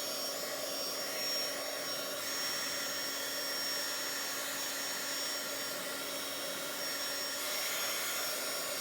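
Heating tool drying a journal page, a steady close whooshing blow of air with a constant high whine, continuous and unbroken.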